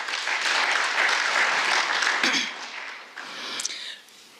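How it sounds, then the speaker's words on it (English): An audience at a matric excellence awards event claps their hands, a dense burst of applause that thins out after a couple of seconds into scattered, fading claps. "Can we clap our hands for ourselves?"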